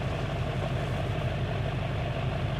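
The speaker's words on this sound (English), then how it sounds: "That's a really loud truck." Loud Chevy Silverado pickup truck engine idling in a steady, rumbling low drone with a regular throbbing pulse, close and constant throughout, with no voices.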